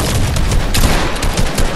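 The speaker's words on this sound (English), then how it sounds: "I think I just got shot at," Dense video game gunfire fills the whole stretch, a loud continuous fusillade of rapid shots with booming bursts, heard up close with no talking over it.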